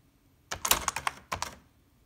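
A thermal typewriter typed on character by character: two quick bursts of crisp plastic key clicks, about six then three strokes, close and alone in a quiet room.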